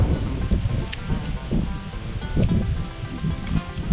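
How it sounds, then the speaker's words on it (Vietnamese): Wind buffets a microphone outdoors, producing a steady low rumbling roar with irregular gusty thumps throughout and no clear talking. "Mọi người thông cảm là cái giờ này nó hơi gió cho nên là mình sợ cái âm thanh nó không được rõ lắm."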